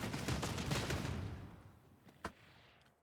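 A bolt gun fires in Warhammer 40K: Darktide: a rapid string of heavy booming shots that fades into a reverberant tail, then one more sharp, isolated shot near the end.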